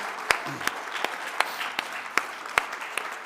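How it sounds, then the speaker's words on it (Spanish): An audience at a panel discussion on sustainability, food security and climate change applauds the panelists, a light, scattered round of claps with a few sharper hand strikes, moderately near and steady throughout. "un aplauso a nuestros panelistas"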